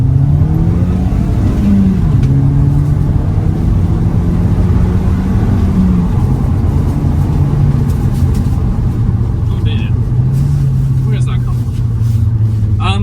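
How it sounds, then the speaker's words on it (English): A 2008 Volkswagen Eos convertible engine drones loudly and steadily, its pitch climbing and dropping as it revs through gears, with a voice talking over it. "Pull the little windows down, drop a couple of gears, and see what this has got."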